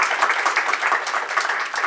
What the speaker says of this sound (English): applause for Barbara Polanco, everyone.